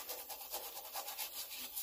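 Sandpaper rubbing inside the cylinder of an old Westwood ride-on lawnmower engine, a steady scratchy scrubbing in repeated quick back-and-forth strokes, close and fairly quiet, with no talking.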